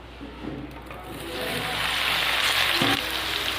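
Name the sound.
soya chunks frying in a pan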